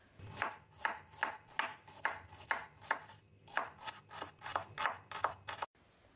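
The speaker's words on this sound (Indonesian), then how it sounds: "Adapun bumbu yang diiris ada 5 siung bawang merah." A knife slicing five shallot cloves on a cutting board while preparing Indonesian spices, about fourteen crisp, evenly spaced chops close up, with no talking.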